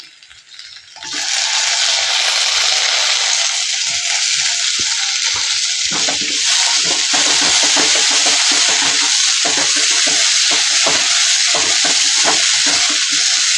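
Masala sizzles and fries loudly in a pan for Kumbakonam kadappa, a steady close hiss that starts after a quiet second, with scattered ladle scrapes and rattles from stirring throughout.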